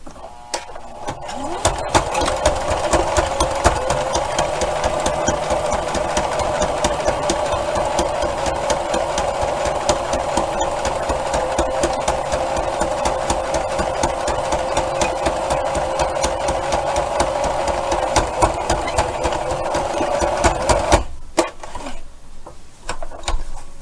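A sewing machine stitches along the fold of a card wallet, running steadily and close for about twenty seconds with a busy, even mechanical whir before stopping near the end.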